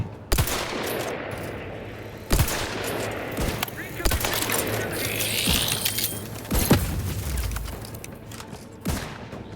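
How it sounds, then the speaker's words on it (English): Gunfire in The Outer Worlds 2 video game, a series of sharp shots scattered across the clip, some in quick bursts, over a low hum and occasional clanks, with a voice briefly heard. "I'm trying to shoot at him."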